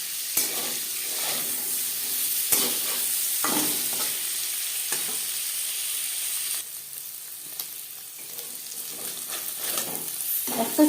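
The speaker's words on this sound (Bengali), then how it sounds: "পনির হালকা করে ভেজে নেব" Paneer frying lightly in a pan, a steady close sizzle with intermittent scraping and stirring clatters throughout, briefly quieter in the middle before picking up again.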